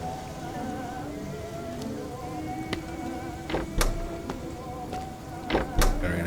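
Hands are washed at a sink in the video game Fears to Fathom: a steady running-water patter streams throughout, joined by a few sharp clicks and knocks near the end, with no voices.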